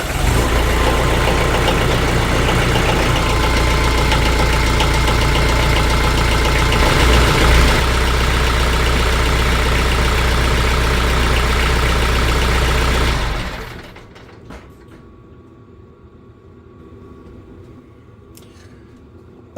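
A car engine idles loudly and steadily after a fresh oil change, a constant close rumble that cuts off abruptly about two-thirds through, leaving a quiet background hum.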